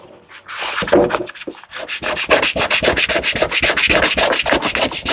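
Someone hand-sands a faded fiberglass foot tub from a 1977 Honda FL250, producing close, rhythmic rasping strokes that repeat rapidly and loudly without pause, with no talk over them.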